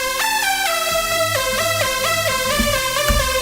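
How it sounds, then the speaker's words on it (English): A bright mono legato synth lead for progressive house glides between notes with portamento slide, each pitch bending smoothly into the next in a steady, loud melodic line, with no voice present. "make sure that the portamento mode is on slide"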